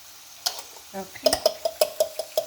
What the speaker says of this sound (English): I have here some eggs that I'm going to scramble